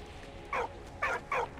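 A dog in the video game Valiant Hearts gives three short, clear barks or yips in quick succession, fairly close, over a faint steady background hum.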